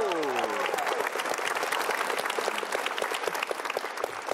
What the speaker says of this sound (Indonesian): sekali lagi tepuk tangan buat Arif Didu